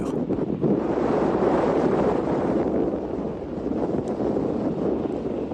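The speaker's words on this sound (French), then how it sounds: "Port-Martin, en Antarctique, est l'endroit le plus venteux du monde" Strong wind at Port-Martin in Antarctica, a continuous loud roaring gust that buffets the microphone, broadband and sustained without a break.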